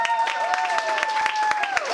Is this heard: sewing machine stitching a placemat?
no